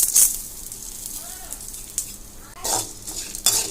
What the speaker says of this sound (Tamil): இப்போ எண்ணெய் சூடாயிடுச்சு. நம்ம எடுத்து வச்சிருக்கிற கடலைப்பருப்பு, உளுத்தம்பருப்பு, தனியாவை வறுத்துக்கலாம்.